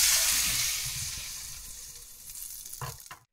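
Prawns browned on both sides crackle and sizzle in oil in a pan. The frying is loud at first and slowly fades, followed by a few utensil clatters and scrapes at the end.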